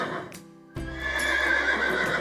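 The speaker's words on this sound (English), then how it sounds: "Horse." A horse neighs loudly and alone in a short, shrill whinny with a brief pause, then a sustained, wavering cry.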